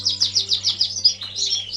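A canary chirps in a bird room, a rapid loud series of repeated bright tweets followed by a few varied trills, close and clear over a faint low hum.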